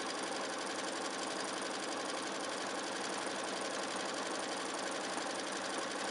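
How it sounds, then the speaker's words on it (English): Sewing machine running a zigzag stitch along a fabric strap for a surgical cap, a steady continuous mechanical whir with rapid rhythmic needle chatter, close and unbroken throughout. "Stitching my zigzag stitch."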